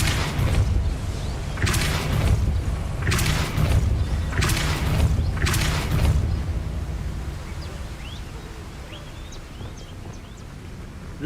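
Depulso spell blasts in the Hogwarts Legacy video game: four deep booming bursts in steady succession, each with a bright crackling edge, then a lower rumbling ambience that fades.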